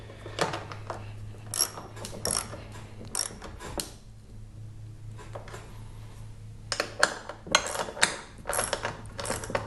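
A bench vise being tightened on a Husky mobile workbench, with bursts of metallic ratcheting and clicking separated by a quiet pause, close and moderately loud over a low hum.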